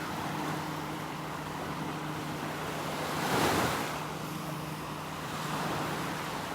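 Ocean waves wash onto the beach at Delnor-Wiggins as the tide comes in: a continuous surf hiss with wind noise, swelling into a louder breaking wave midway, then settling back to a steady wash.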